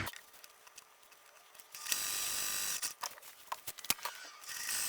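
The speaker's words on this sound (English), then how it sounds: "take it over to the sewing machine and stitch down both sides" A sewing machine stitches down both sides of a patchwork fabric piece in short mechanical bursts after a quiet start, its rapid ticking whir starting and stopping at close range.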